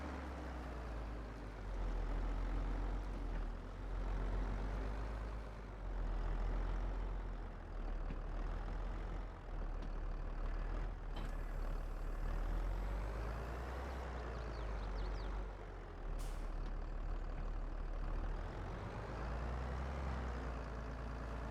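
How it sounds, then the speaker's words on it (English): Truck engine rumble from the Farming Simulator 22 game, swelling and easing over a steady low drone, with brief metallic clanks and a short hiss as equipment is coupled and released. "Love the game engine sounds. All the metal, the attaching, the detaching."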